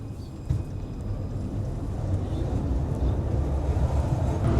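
Moscow tram car pulling away, a steady low rumble and rattle of the rail vehicle that gradually builds in loudness, with no talk.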